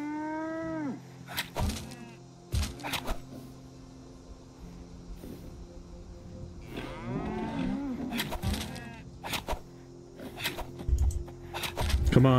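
A cow in the video game Fallout 76 moos several times, with drawn-out lowing calls at the start and in the middle, mixed with game sounds and sharp clicks.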